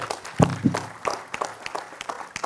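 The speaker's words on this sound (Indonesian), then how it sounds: "Tepuk tangan untuk beliau" Scattered hand claps from a small audience, a few sharp claps early, then lighter irregular clapping that thins out.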